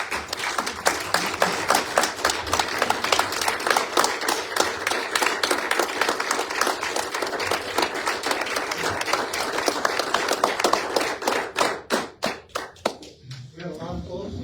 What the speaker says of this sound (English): I think we all need a round of applause.